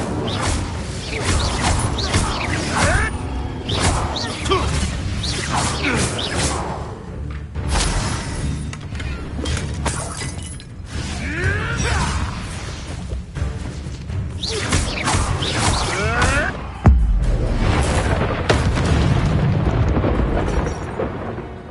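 Fire spells blast out in Hogwarts Legacy, a run of loud whooshing eruptions and crashing impacts over an ongoing fight, with one sharp heavy thud near the end.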